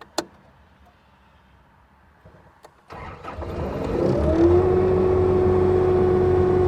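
An ASV compact track loader's diesel engine is started with the key after the glow plug light goes off. A few faint clicks are followed by the cranking, then the engine catches and settles into a loud, steady idle with a rising whine.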